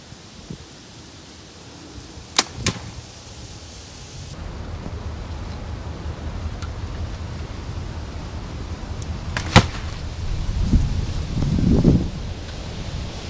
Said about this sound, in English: take a 20-yard shot here. I'm gonna just snap off some quick shots.